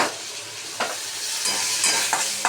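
Chopped green chilies hit hot oil in a pan for chitrana, bursting into a loud, close, continuous sizzle with a few spatula scrapes and no speech.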